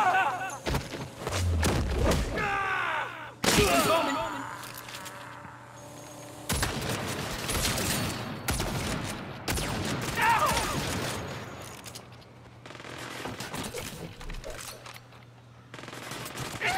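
Bursts of automatic gunfire in the Saints Row video game, sharp rapid volleys and thumps in several loud clusters, with a voice talking in between and over the shooting.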